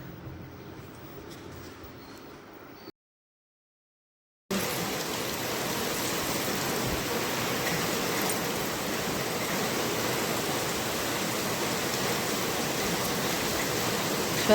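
Heavy monsoon rain pours in a dense, constant hiss after a short cut of silence, loud and close with no voices, only a softer patch of rain before the gap.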